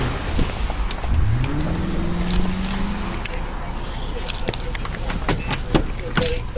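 Tulsa police car being driven off by a handcuffed woman, its engine revving up in a rising whine, then running on amid clatter, knocks and scuffles, with people talking and shouting over it.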